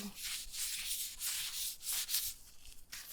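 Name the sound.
rubbing with an alcohol wipe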